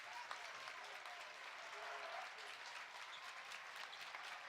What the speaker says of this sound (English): Crowd getting into it for the Kaukauna side